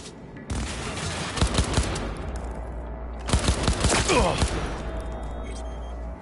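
Bursts of gunfire in Cyberpunk 2077 on PlayStation 5: two clusters of rapid, loud automatic shots with sharp cracks over a steady low game-ambience hum, a quieter stretch between them, and a faint voice in the mix.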